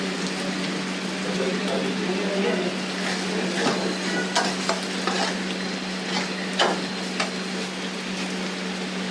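Sardines fry in a pan for a Goan ambotik, with a steady sizzle, a low constant hum underneath, and intermittent scraping stirs and clinks of the utensil throughout.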